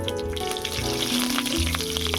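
Nigella seeds, cumin and green chili crackle and sizzle in hot mustard oil in a pan, a steady close frying hiss that runs unbroken throughout with no voices.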